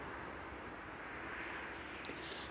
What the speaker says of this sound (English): once that 747 makes its way down towards runway